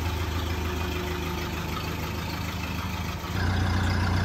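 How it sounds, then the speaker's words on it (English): A 1931 Ford Model A pickup engine idling, a steady low rumbling chug heard close and continuous, with a slight shift in tone near the end and no talking. "What a perfect day for going for a ride in our 1931 Ford Model A pickup."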